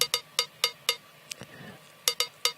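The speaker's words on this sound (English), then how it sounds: "we have a cowbell playing." A cowbell loop in a K-pop intro groove: sharp metallic strikes in a steady rhythm, about nine hits with a short gap in the middle, played alone without voices.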